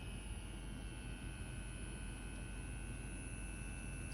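An EZ P3 Pro turbo rotary tattoo machine running at 7 volts gives a faint, steady motor hum with thin high whining tones, continuous and unchanging throughout.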